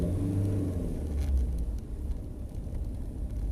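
A 2.2 litre turbo diesel pickup idling and growling, a low, steady rumble with slight rises in pitch, heard close from inside the vehicle with no voices.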